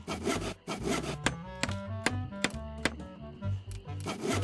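Wood is sawn in the point-and-click adventure game Monkey Island 2: LeChuck's Revenge, a rasping back-and-forth scrape broken by sharp knocks and clicks, fairly quiet and heard without speech.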